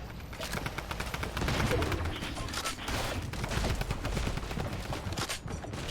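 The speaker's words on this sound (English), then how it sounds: "I've got easy shots on him, and that's how I got the kill" Fortnite gunfire during a competitive scrim match, dense rapid shots fired in a steady fusillade for several seconds, loud and close with little pause.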